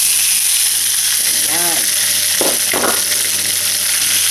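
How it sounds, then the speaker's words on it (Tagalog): Sisig served onto a hot sizzling plate, giving a loud, steady hiss of frying and steam close up, with a few brief clanks and scrapes of handling partway through and no talking. "So, this is how we're going to serve our sizzling sisig."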